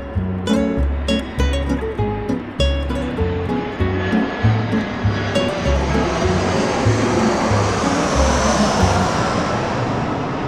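An airplane passes overhead near Tallinn airport, a loud continuous engine roar that builds and spreads into broad rushing noise, with tonal hum and irregular low thumps in the first half.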